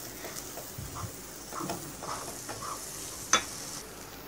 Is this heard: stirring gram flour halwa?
yes